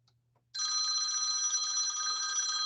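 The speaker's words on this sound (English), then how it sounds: "Got my phone ringing." A mobile phone rings in a workshop, a steady loud electronic ringtone that starts abruptly after a brief quiet moment and continues without pause.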